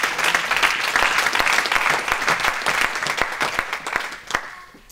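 A church congregation bursts into applause and cheering to acclaim God, a dense run of claps that holds strong and then thins out toward the end.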